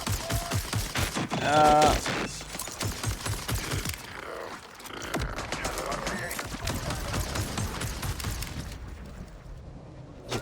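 Gunfire in Borderlands 4 as dense rapid bursts up close, strongest in the first four seconds, then fading into game ambience and scattered sounds, with a brief grunt from a player.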